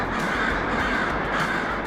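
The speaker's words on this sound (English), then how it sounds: "we explore one city's crow quandary" Crows caw repeatedly in a city setting, harsh calls overlapping against a steady wash of outdoor noise, fairly close and without any talk.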